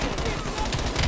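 Rapid gunfire from Call of Duty Black Ops Cold War crackles steadily through a dense, busy battle mix, with bursts stacking on one another and a voice speaking over the shooting.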